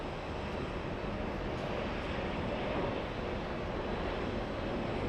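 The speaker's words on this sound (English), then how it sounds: "We have Virgin Atlantic. It's an A330 Neo flying in from Heathrow." Virgin Atlantic Airbus A330neo airliner arriving from Heathrow, a steady broadband jet roar held at a constant level throughout, fairly distant and with no voices.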